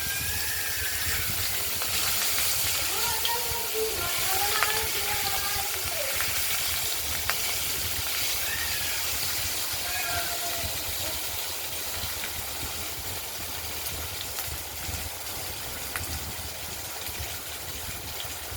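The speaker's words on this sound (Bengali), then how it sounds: "বাকি মাছ দুটো আমরা ভেজে নিচ্ছি।" Pieces of katla fish fry in hot oil for a potato fish curry, giving a continuous, even sizzling hiss close by, with faint voices and tonal sounds drifting in the background.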